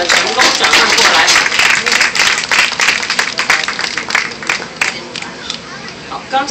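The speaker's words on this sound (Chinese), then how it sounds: "我们给他鼓掌鼓励" Audience applause at a glassblowing demonstration, a dense steady burst of clapping that fills the room and slowly thins toward the end.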